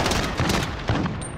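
Rapid bursts of gunfire in Call of Duty: Modern Warfare, a dense crackling fusillade of shots filling the whole moment at close range with no voices over it.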